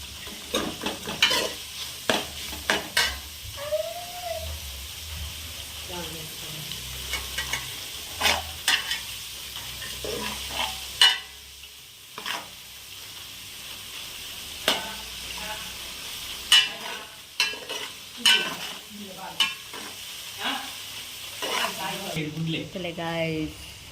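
Ingredients are roasted in a pan until golden, with intermittent stirring scrapes and soft sizzling heard under frequent talking.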